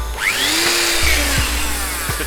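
Hilti drill with a long bit spinning up steadily, a rising whine over a low motor hum that holds loud and close throughout without pause.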